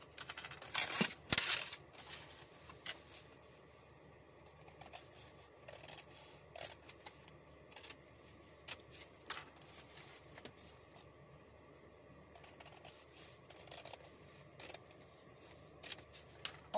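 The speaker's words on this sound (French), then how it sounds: "Vous reprenez votre paire de ciseaux, ça va de soi. Et on vient couper." Scissors snip through material while cutting out pieces for a handmade suitcase project, a quiet run of sharp irregular clicks and snips close by, with one louder clatter near the start.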